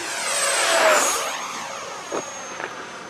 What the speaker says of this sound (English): But it's a fun plane to fly, guys.